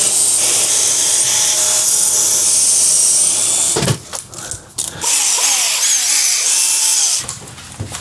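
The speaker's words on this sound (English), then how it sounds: "let's get the drill and hope there's no cables in there." Power drill boring into a wall at home, a loud sustained high whine for several seconds that cuts out briefly, restarts, then stops near the end, close to the microphone.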